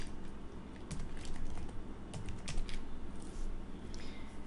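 Fingers type on a computer keyboard in quick, uneven bursts of soft clicks and taps, close and fairly quiet, with no talking.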